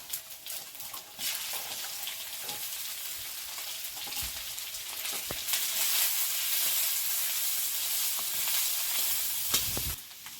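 Whole cumin, chopped onion, garlic and green chili sizzle loudly in hot oil in a pan beside potatoes, a continuous close crackle with intermittent stirring clatter and scrapes, no voices.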